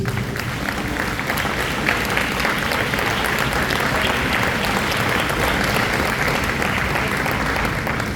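A church congregation applauds during a celebration service, a dense, even wash of clapping filling the room and holding steady without pause.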